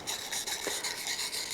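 A utility knife blade being sharpened: a steady rhythmic rasping of metal stroked back and forth against an abrasive surface, close and fairly even, with no talk.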